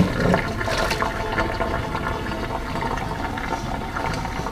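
Hot cooked lasagna pasta and its boiling water poured out into a strainer, a loud rushing gush of water splashing continuously for a few seconds, close and alone.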